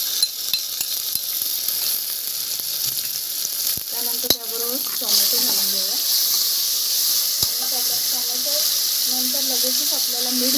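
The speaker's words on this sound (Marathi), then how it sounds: "जरा मिरच्या भाजून घेऊया।" Green chillies sizzle and crackle as they roast in a hot pan for a Maharashtrian masale bhat, with a steady frying hiss, a couple of sharp clicks near the middle and faint voices in the background.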